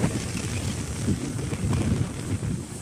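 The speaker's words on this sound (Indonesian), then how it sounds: "Kencang sekali angin ini sore hari." Strong wind roars steadily and buffets the microphone in gusts, with no voices.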